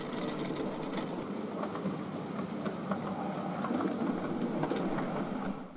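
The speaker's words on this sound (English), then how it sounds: "Now it's going to be put inside, so the train is slowed right down." A model railway train runs on the Little Bytham layout with a steady, soft rolling rumble and faint clicking of wheels over the track, continuous at a low, even level with no voices.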